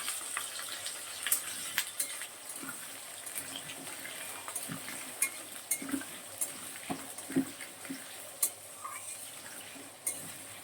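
Potatoes go into a pan with cloves, cumin and dried chilli for a vegetarian Bengali dish: a quiet, low sizzle runs under repeated scraping and clinks of a spatula stirring against the pan.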